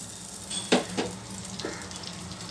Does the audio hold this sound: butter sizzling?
yes